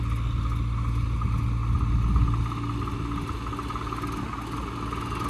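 A tractor engine runs steadily nearby during a tractor pulling contest between a New Holland 3630, Eicher 557 and Swaraj 855, all 4x4, giving a low continuous rumbling drone that swells briefly before settling, with no talk over it.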